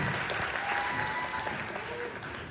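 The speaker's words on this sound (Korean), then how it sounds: "여러분 뜨거운 박수 부탁드릴게요." Audience applause welcoming actress Jeon Jong-seo to the stage at a Busan International Film Festival guest visit screening, a steady round of clapping from a seated crowd with faint voices mixed in.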